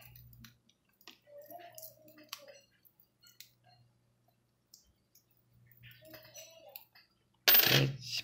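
Metal coins handled and clinking while being unboxed from a new collection delivery, with sparse light clicks and taps, a couple of faint scrapes, and a loud rustle at the end.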